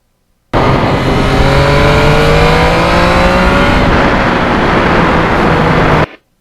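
Yamaha MT-09 three-cylinder crossplane engine on a spring ride, revving loud and close through rising gear pulls for about five seconds, then cutting off.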